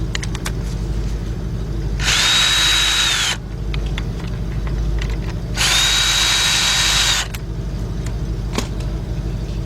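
A power drill spins out 10 mm engine bolts on a 2003 Jeep Liberty Sport with a 3.7 engine during a partial rebuild, two loud whirring bursts of about a second and a half each over a steady background hum.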